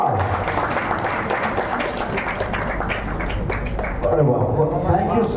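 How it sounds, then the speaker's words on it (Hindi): Loud applause at a production company launch event, crowd clapping mixed with voices and a low, booming background over a continuous, full-volume stretch. "जोरदार तालियां।"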